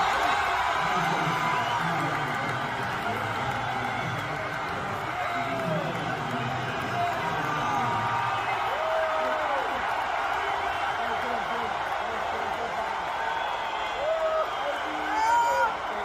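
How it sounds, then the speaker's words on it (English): Large stadium crowd cheering as Donald Trump walks onto a field, a constant distant roar of voices with whoops and rising shouts, under a speaker talking throughout. "Here is Donald Trump walking onto the field, and you definitely hear more cheering here."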